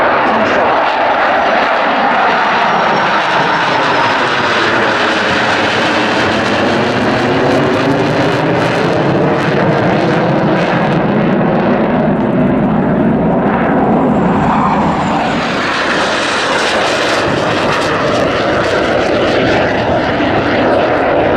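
An English Electric Canberra PR9 jet takes off at an RAF Waddington air display, a loud sustained engine roar that swells and shifts in pitch as the aircraft climbs away past the crowd.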